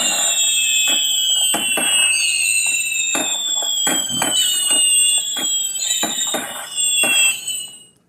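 Fireworks whistle overhead, with several long gliding shrieks and sharp crackling pops recurring steadily, loud and close, with no voices.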